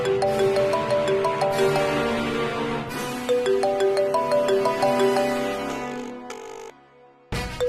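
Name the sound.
phone ringtone ringing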